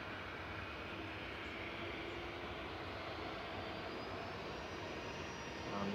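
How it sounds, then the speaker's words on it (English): A 17-year-old Jet2 Boeing 737-800 departing runway 23 left at Manchester Airport, a steady distant jet roar with a faint rising engine tone, no voices. "first departure on 23 left today is Jet2 805 over to Izmir. 737-800 operating this flight"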